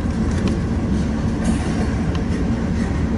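A Norfolk and Western freight train rolls past at Elkhart Yard, a steady loud rumble of rail cars with faint clickety-clack throughout, close and continuous with no talking.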